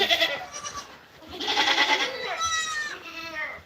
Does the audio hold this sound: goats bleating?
yes